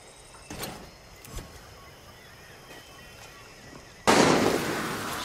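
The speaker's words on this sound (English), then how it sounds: "Shit, who's shooting?" Gunfire in the Far Cry 6 video game: a few faint, distant sharp reports crack out early, then a much louder, closer burst of shots erupts near the end and keeps going.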